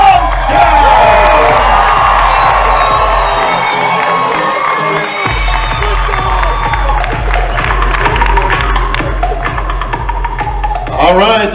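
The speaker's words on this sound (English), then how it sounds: "as you can hear by the crowd, they seem to like you here, Chris" A crowd at the Mr. Olympia press conference cheers, whoops and shouts loudly and continuously, with a pulsing low throb underneath and a voice speaking over the noise.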